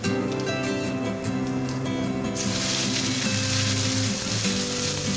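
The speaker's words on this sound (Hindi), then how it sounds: "इसी ऑयल में हम मेथी दाना शामिल कर देंगे और इसका कलर थोड़ा सा चेंज हो जाए तो इसमें सारे मसाले जो हमने पीसे थे वो इसमें शामिल कर देंगे।" Fenugreek seeds and ground spices hitting hot oil in a pan for a potato curry: a steady sizzle that swells into a louder, brighter frying hiss partway through, close and continuous with a faint hum beneath, no talk.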